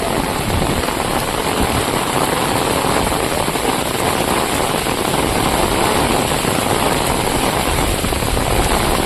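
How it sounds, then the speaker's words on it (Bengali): Heavy rain pours down beside a village river, a loud, dense, unbroken roar of water filling the whole stretch without any voices. "এত জোরে বৃষ্টি নামলো যে মনে হয় আকাশ ভেঙে বললো"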